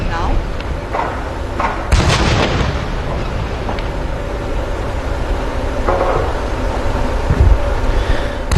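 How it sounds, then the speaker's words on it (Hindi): A 21-gun artillery salute for the President of India during the 2022 Presidential Fleet Review, heard as booming blasts at intervals beneath continuous crowd and commentary noise. "Honorable President of India receiving 21 gun salute live on your screen."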